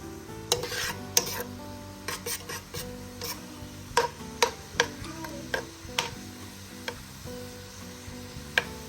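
Shrimp shells fry and turn golden in a pan while being stirred, making a soft constant sizzle. A spoon scrapes and taps the pan in irregular close clicks, with no talking.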